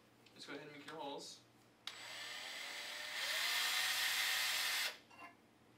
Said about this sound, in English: you can take a drill. Let's go ahead and make your holes.